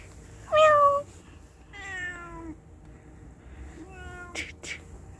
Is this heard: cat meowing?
yes